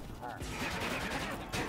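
Arrows firing in a busy Minecraft Dungeons battle against waves of knights, a dense run of sharp, gunshot-like game effects packed together over a steady clamor, with a voice likely mixed in.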